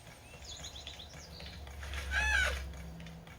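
Birds cluck and chirp in the video game Zelda: Tears of the Kingdom. The calls are short and faint against a low ambient game soundscape.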